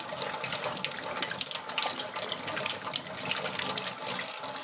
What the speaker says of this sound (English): make sure you wash your hands. Wash your hands, son.